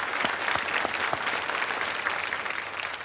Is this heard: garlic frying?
no